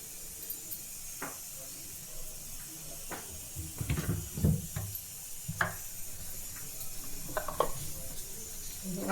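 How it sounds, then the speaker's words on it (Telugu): Urad dal, cumin and mustard seeds sizzling in hot oil in a pan, a steady soft hiss with scattered small pops and crackles, a few louder clatters midway, close and without talk. "దీనిలో మినప్పప్పు ఫస్ట్ వేస్తున్నా, కొంచెం వేగుతాయని"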